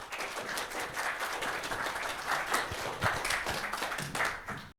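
An audience at a public lecture gives steady, moderately distant applause to welcome a Seoul National University environmental studies professor. The clapping carries on for several seconds and stops abruptly at the end.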